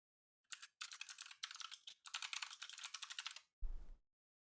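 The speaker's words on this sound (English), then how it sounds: "So loud. Keyboard so loud." Loud, rapid typing on a computer keyboard in bursts of clattering keystrokes, pausing briefly, followed by a short low thump at the end.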